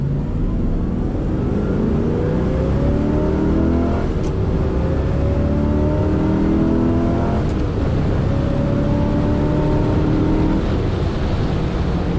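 A 1967 Corvette coupe with the L79 engine and four-speed revs steadily, its loud, close exhaust note rising and falling through several sweeps toward 5,000 RPM and filling the whole stretch without talk.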